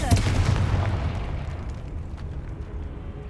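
A Confringo blasting spell goes off in Hogwarts Legacy, a loud booming explosion that bursts at the start and rolls into a long, dense rumble that fades slowly over a few seconds.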